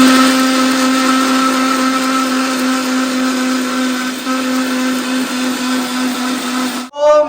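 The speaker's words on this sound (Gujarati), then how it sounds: "હવે આપણે એમાં મિક્સી વડે મિક્સ કરી દઈશું" A kitchen mixer grinder whirs loud and steady for about seven seconds as it blends soaked medu vada batter, holding a constant motor hum before switching off with a brief rattle at the end.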